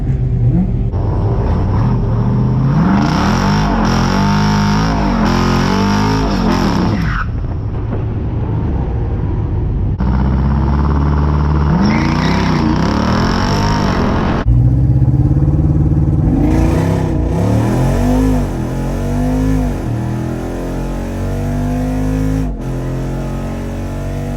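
A Jeep Wrangler Rubicon 392 V8 on massive tires launches in a drag race. Loud, close engine roars climb through repeated rev sweeps and shifts over wind buffeting and rattles, with no talk.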